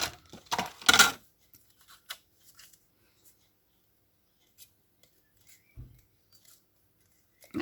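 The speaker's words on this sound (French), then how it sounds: "je vais venir détourer après avec mes gros ciseaux. Mes petits ciseaux, plutôt." Small scissors snip out paper bird shapes for a tiny handmade mini album, a quick flurry of crisp close cuts at the start, then near silence with a few faint clicks.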